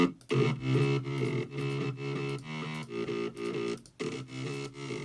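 Synth bass with all bus processing switched off plays a rhythmic riff of repeated notes with short gaps, thinner and quieter, no voices.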